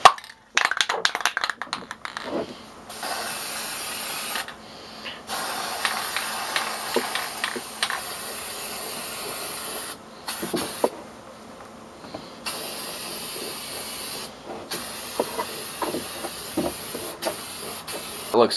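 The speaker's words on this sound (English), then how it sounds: "The clear coat of choice is the Krylon Clear Acrylic" Krylon Clear Acrylic hisses from an aerosol spray can onto a walnut and maple tissue box in several long close bursts, with brief pauses and faint rattles between them.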